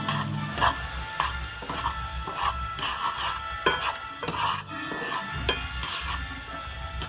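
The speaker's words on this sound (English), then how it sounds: "Just give it a little stir" Food is stirred in a cast iron pan while a burger is cooked, with a spatula repeatedly scraping and tapping the metal in irregular strokes over a soft sizzle.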